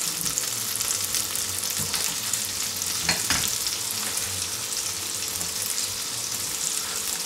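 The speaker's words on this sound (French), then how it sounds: "Lorsque le beurre a arrêté de chanter, on dispose ça dedans comme ça." A stuffed turkey roll frying in butter in a pan, a continuous dense sizzle with a brief scrape of handling partway through, steady and close.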